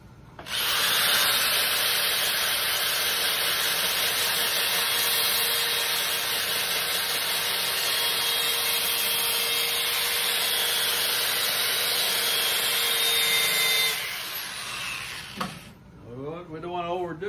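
A power sander with a sanding disc whirs loudly and steadily against a surface for about fourteen seconds, then stops, leaving a short stretch of quieter handling noise.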